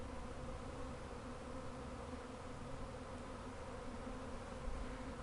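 A honeybee swarm hums steadily around a hive box, a continuous dense buzz of many insects that holds at a constant level throughout with no pauses or voices.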